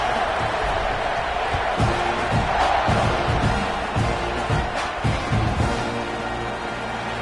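A football stadium crowd roars after a touchdown drive, a broad, steady wash of cheering with thumps and claps throughout, loud and continuous, with announcer talk faintly underneath.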